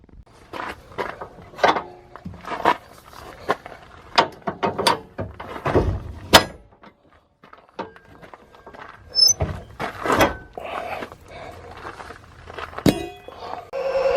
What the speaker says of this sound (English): after removing my bars, now I'm going to put the camper back down